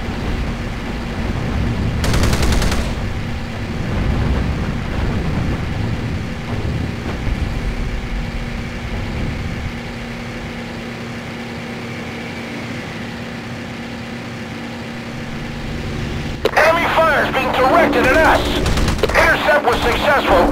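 Naval gunfire and machine-gun bursts in the WWII naval combat game Battlestations Pacific, invading Iwo Jima: a loud burst early, steady rumbling battle noise with a game voice, then a dense clattering volley near the end.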